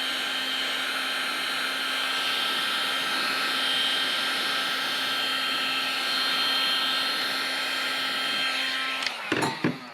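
A heat gun blows steadily while warming the fabric top of a Telecaster guitar during its build. It makes a loud, constant whooshing roar with a low hum, then cuts off near the end with a few soft knocks.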